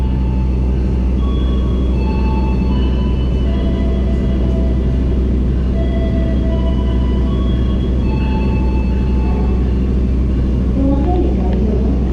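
A PT Inka commuter train passes at an Indonesian railway station as a steady, loud low rumble with faint horn-like tones above it, continuing throughout.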